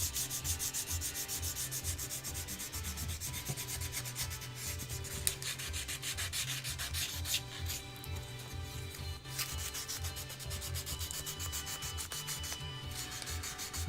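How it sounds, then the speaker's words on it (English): Hand sanding along the edges of a small wooden keyring blank, a steady close rhythmic rasping rub that continues throughout with no talking. "Guess I ought to just sand the edges a little bit as well."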